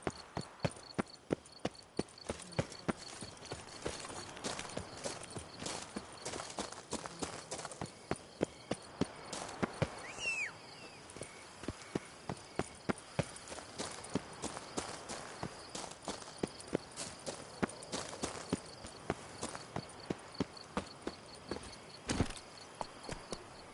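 Hooves of a horse galloping in The Witcher 3 game, a steady fast clip-clop rhythm of sharp, close impacts running continuously over a faint game background.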